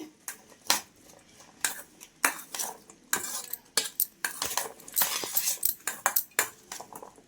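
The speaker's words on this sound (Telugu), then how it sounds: "వేసుకొని మొత్తం బాగా కలుపుకోవాలండి." Spoon stirring tomato ketchup into a corn masala chaat in a bowl, a rapid series of close metallic clinks and scrapes against the dish with uneven rhythm, no talking.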